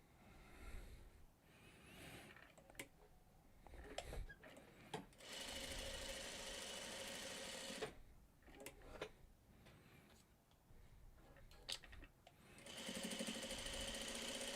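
A sewing machine stitches a quilt block in several bursts of steady whirring, running alone with short pauses between seams and close to the listener.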